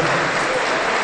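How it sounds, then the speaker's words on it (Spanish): A church congregation claps together in a dense, steady burst of applause during a worship service, loud and continuous for about a second with no voices over it. "Aplauso para el Señor Jesús."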